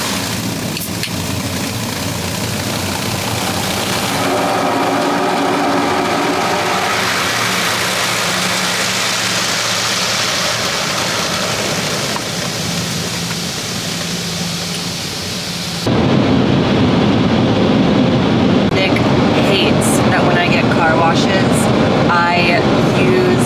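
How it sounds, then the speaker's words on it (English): An automatic car wash runs loud and steady, a dense rushing wash of spray and machinery that shifts abruptly midway to a harsher, brighter blast of water and brushes, continuous throughout with a voice faintly talking. "now you can't hear me because of the car wash"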